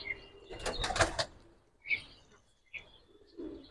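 A Giribaz pigeon beats its wings in a few quick, close bursts, a loud flurry followed by shorter flaps, with faint chirps between them.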